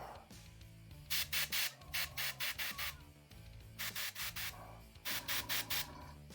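White paint sprayed onto a miniature figure in short bursts, several quick hissing puffs grouped in clusters over a faint background hum, close and fairly quiet.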